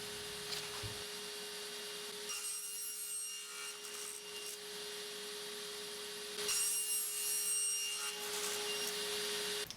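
A hand saw works through 2-inch PVC pipe set against a stop block in a woodworking shop, two quiet rasping cutting strokes over a faint steady hum, with no talking.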